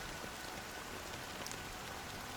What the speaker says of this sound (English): Why did this rain choose me?